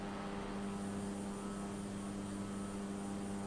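A CRJ jet in Microsoft Flight Simulator 2020 holds a steady, droning engine roar with a sustained turbine hum, continuous and even in loudness with no voices, during its takeoff.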